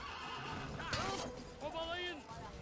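A horse in the video game Assassin's Creed lets out a shrill neigh and a second whinny, heard close up, with a crash and hoofbeats around them and someone talking.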